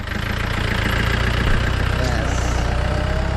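A vehicle engine idles close by on a trip around Munnar, with a steady, low, throbbing rumble and a faint knocking pulse that holds even for the whole moment.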